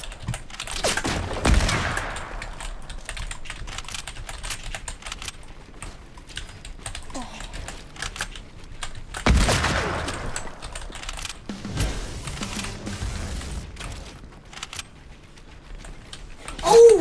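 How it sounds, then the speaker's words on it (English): Sniper gunfire in Fortnite, sharp shots and bursts cracking among busy clicking and game noise, with a few louder blasts standing out over a constant clatter. "There's people sniping us at green."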